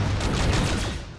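Gauss Cannon fire in the video game Descent 2 comes as a dense, loud burst of rapid booming shots, close and continuous over a short stretch with no talk.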